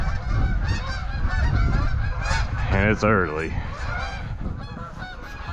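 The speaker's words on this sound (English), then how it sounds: "the geese are flying, so that means winter's coming" Geese honk repeatedly overhead, a rising chorus of calls that peaks midway, while a person speaks briefly over outdoor background noise.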